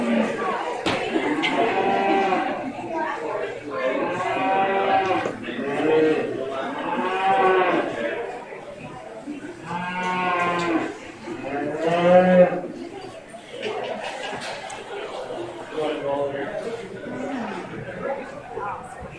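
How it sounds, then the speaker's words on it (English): Highland heifers moo repeatedly in long, loud calls at a 4-H beef show, several bellows in succession while an announcer and crowd chatter run underneath. "a really, really nice pair of Highlander heifers out here"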